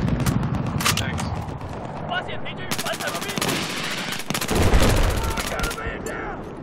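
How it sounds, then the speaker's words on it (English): Machine gun fire in Battlefield 4 on the Siege of Shanghai map during a Conquest match, with sustained rapid bursts and overlapping shots amid loud battle noise, close and continuous, with a player talking over it. "I don't even know what, but it's shooting at me."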